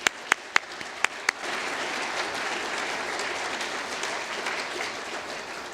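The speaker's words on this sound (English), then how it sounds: "Now I would like to give a big round of applause for our sponsors." A lecture-hall audience at a forest industry lecture series breaks into applause for the sponsors, starting with a few sharp, separate claps and quickly swelling into steady, sustained clapping from the crowd.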